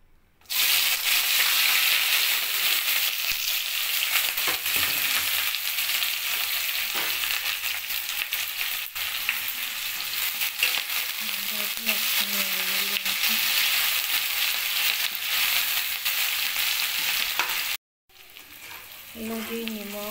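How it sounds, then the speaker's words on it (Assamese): Dry red chili and bay leaf hit hot oil in a pan, giving a loud, continuous crackling sizzle with occasional stirring, a brief cut near the end, then sizzling resumes. "তেল দিলোঁ, এতিয়া এটা শুকান জলকীয়া, আকৌ তেজপাত দিছোঁ"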